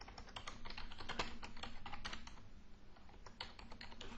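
Typing on a computer keyboard while building an Excel dashboard: a steady run of close, crisp key clicks with brief pauses, heard alone without talk.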